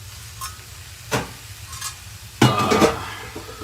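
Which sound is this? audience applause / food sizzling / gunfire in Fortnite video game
food sizzling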